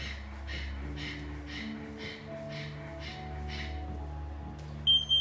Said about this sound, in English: It's a panting breath.